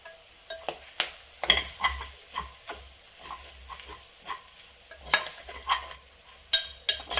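Tender jackfruit and grated coconut are stir-fried in a pan, giving a soft background sizzle broken by regular scraping and stirring strokes of a spatula against the metal, close-up, with no speech.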